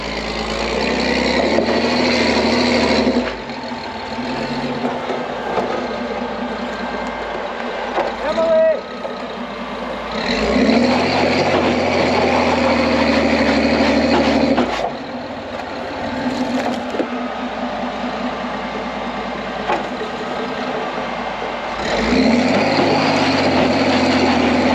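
An off-road rock crawler on a Colorado trail idles and revs in bursts as it works a tire up a rock ledge, the engine rising and dropping in repeated surges under occasional talk.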